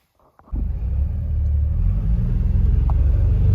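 A brand-new side-by-side utility vehicle's engine starts up after a brief rattle and settles into a deep, steady rumbling idle close by, with low throbbing that never lets up.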